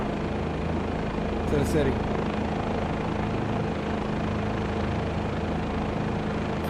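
Helicopter in Microsoft Flight Simulator 2024 approaching a helipad on a Providence city tour, its rotor and engine drone loud and constant throughout while someone talks briefly over it.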